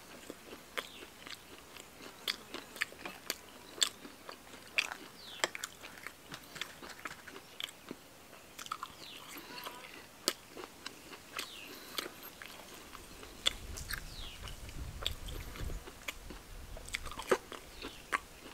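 Crunchy bean sprouts dipped in a plain dry dipping sauce are bitten and chewed close up, giving repeated sharp crisp crunches in a steady chewing rhythm with no talking.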